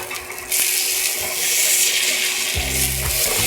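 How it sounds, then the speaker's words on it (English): Pork belly sears in a hot pan, a loud continuous sizzle and fry hiss throughout, with a sharper burst of spitting fat about halfway in and a low rumble near the end. "nice sear on that side"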